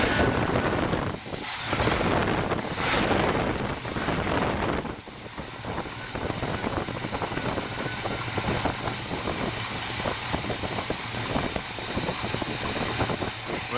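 Big block engine idling in a dually truck: a steady, moderately loud rumbling idle with a slight knocking, lumpy texture that runs through the whole stretch, with no talking.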